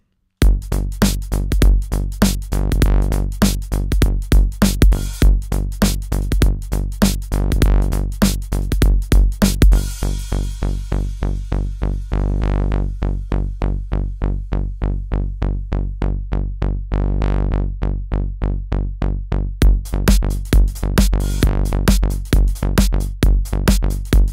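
Steady rhythmic music with regular percussive hits that shifts to a different pulse partway through through metric modulation, then settles into a new tempo.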